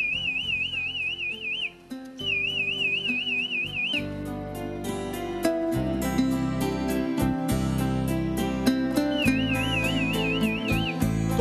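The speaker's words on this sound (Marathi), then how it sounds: "तो अशी शीळ घालतो आणि त्याच्या शिट्टींच्या आवाजानं मगरी किनाऱ्यावर येतात." A man whistles to call crocodiles to the riverbank, giving repeated warbling trilled whistles in clear bursts that sound loud and close over a continuous musical backing, with short pauses between phrases.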